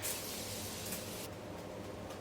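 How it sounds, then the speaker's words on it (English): Morphe Continuous Setting Mist sprayed onto a face, a loud, close, continuous airy hiss filling the first second or so, then thinning to a softer spray noise; no talking. "Now before I forget to use setting spray, I'm just going to do that part now."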